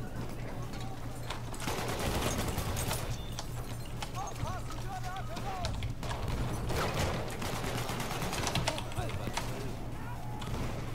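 Gunfire in the World War I shooter game Battlefield 1, with rapid shots and sporadic bangs mixed into dense battle noise, sitting under steady talking throughout.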